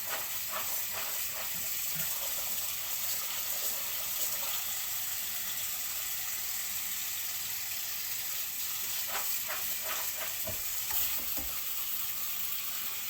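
Green beans being washed and rinsed in water, a steady running-water hiss with splashing and faint clinks throughout, close and continuous with no talking.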